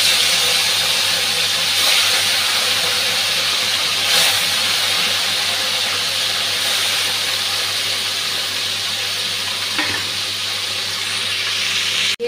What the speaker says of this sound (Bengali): এদিকে মাছটা ভাজতে দিচ্ছি